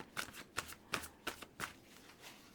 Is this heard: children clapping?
no